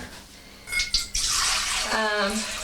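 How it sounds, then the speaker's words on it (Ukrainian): Warm water pours into a container for bread dough, a steady splashing gush that starts partway in and fills the rest of the clip, with a brief clatter before it. "Звичайно, тепла вода."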